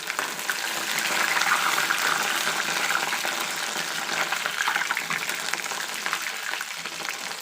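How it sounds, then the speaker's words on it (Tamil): Curry leaves sizzle and crackle in hot oil while cooking cauliflower 65, a steady dense frying hiss held close and fairly loud throughout with no voices. "கருவேப்பிலை போட்டு கொஞ்சம் அது கலர் மாறுற அளவுக்கு நம்ம பொரித்து எடுத்துக்கலாம்"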